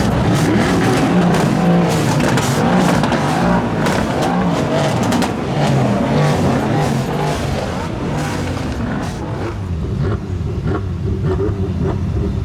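Several powerful supercar engines, among 120+ arriving at Lamborghini Miami, rev loudly together, roaring and rising in pitch in a continuous, aggressive blast with some cheering mixed in.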